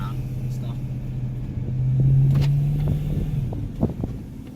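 A BMW E90 M3 with a manual gearbox drives along with a steady low engine drone that rises briefly in the middle, wind rumble underneath, and a voice speaks over it.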